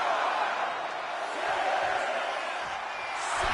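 Dense arena crowd roar from a WWE 2K25 wrestling video game, a steady wash of cheering and shouting that stays loud and continuous throughout.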